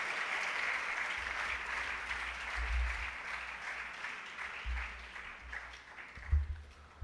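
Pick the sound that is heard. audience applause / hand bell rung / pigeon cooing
audience applause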